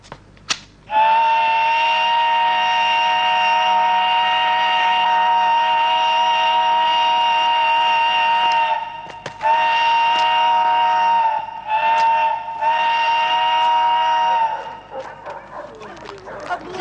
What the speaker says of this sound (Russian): Машинист, давай гудок.